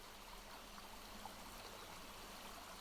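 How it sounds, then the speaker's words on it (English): Small waterfall pouring gently into a pool, a soft, steady wash of running water with no other sounds. "There is a pool nearby with a small waterfall gently pouring into it."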